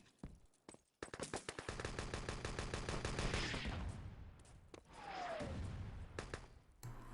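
Wolfenstein: Enemy Territory competitive match: rapid automatic gunfire in dense bursts, loud and close, with overlapping shots from several weapons and brief pauses between volleys.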